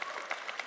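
A church congregation breaks into applause during a sermon, a short burst of many hands clapping together in a steady, dense patter.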